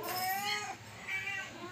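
A cat meows twice in a short close pair, each call loud and drawn out with a slightly wailing tone, heard alone with no talk.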